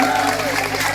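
Crowd applause for the women at a lively evening Islamic sermon gathering in Bogor, a continuous wash of clapping and cheering, loud and close, with a speaking voice over it.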